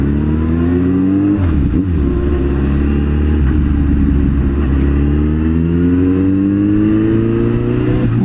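Motorcycle engines in traffic, a Honda Hornet passing alongside a Suzuki Bandit 1250, loud and close, with steady droning revs that rise and fall as the bikes ease forward together.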